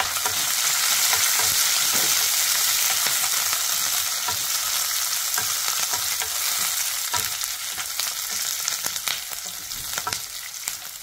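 Dried red chilies and curry leaves crackling in hot oil for a Kerala sadya-style kalan tempering, a dense continuous sizzle with frequent sharp pops and stirring, close and steady, without speech.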